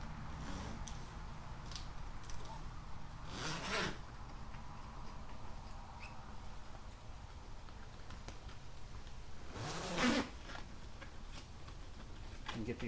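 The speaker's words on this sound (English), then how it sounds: "Zipper it down." A zipper on a Bestop Trektop soft-top for a Jeep Wrangler JL is pulled closed in a couple of quick rasping strokes, close by and fairly faint, with some talk around it.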